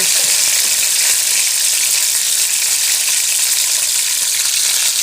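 Onion frying in hot oil in a pan, browning dark for haleem: a loud, dense, steady hiss of sizzling fills the whole span up close, without pauses or speech.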